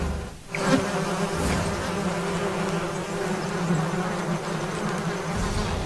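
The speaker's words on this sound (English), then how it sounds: "Squadrons of carnivorous rainforest wasps take to the air, a deadly threat for a frog." Carnivorous rainforest wasps in flight, a steady dense buzzing drone of several insects that stays loud and continuous throughout, close by, with no voices.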